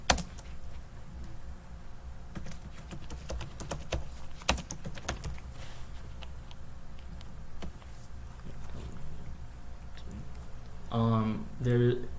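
Computer keyboard typing with irregular clustered keystrokes, close and moderately loud, over a steady background hum, ending in a short louder burst.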